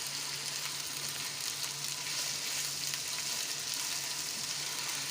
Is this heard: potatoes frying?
yes